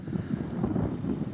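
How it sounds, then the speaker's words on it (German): Wind gusts over a lake, rumbling and buffeting low and steady close to the microphone, with no voices or other distinct sounds. "Super schöner Wind"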